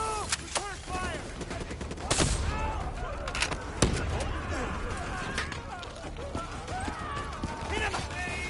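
Gunfire from a battle in the video game Call of Duty Black Ops 3: irregular loud shots and bursts crack through the scene, with voices shouting over the shooting.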